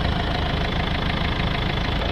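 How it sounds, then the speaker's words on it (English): A Ford Focus 1.6 engine idling, a steady low rumble that holds even and unbroken throughout, close and fairly loud with no voices over it. "now with the vehicle running"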